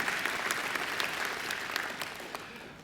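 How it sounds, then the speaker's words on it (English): An audience at a Macquarie University graduation ceremony applauds in a steady, dense wash of clapping that fades slightly toward the end, heard from a distance in a large hall. "I think Robin deserves another great round of applause for a great occasional address"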